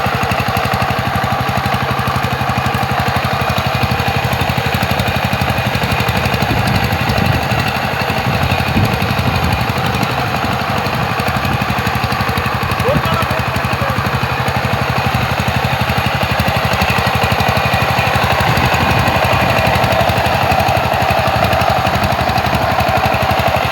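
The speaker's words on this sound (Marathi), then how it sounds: "तर मी पण जरा पॉवर टेलर चालवलंय" A power tiller engine runs steadily and loudly in a paddy rice field, a continuous rough mechanical drone with no pauses.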